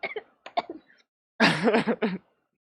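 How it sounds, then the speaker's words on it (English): Several coughs: a quick, lighter pair followed by a louder, harsher burst of coughing, close up with no talking. "I think that was a real cough"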